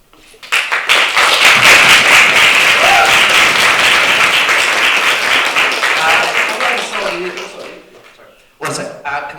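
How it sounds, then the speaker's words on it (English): Audience clapping at a student city council election question time, a sustained loud round of applause that fades out near the end, followed by a brief burst of renewed clapping. "Can we just have claps held off until like after everybody's finished speaking?"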